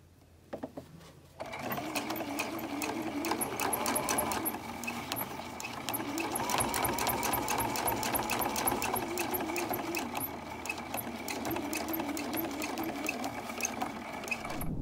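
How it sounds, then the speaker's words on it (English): A sewing machine runs steadily and close by, stitching a straight seam along a bag panel for an iPad case, its rapid needle chatter continuous after a brief start. "I'm going to go ahead and continue stitching from the yellow dot straight down to the other end"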